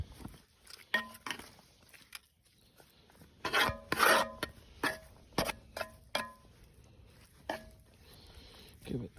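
Flour coating beef is stirred with a utensil at a hot tent camp, giving soft scraping and rubbing strokes with scattered taps and knocks, close and fairly quiet.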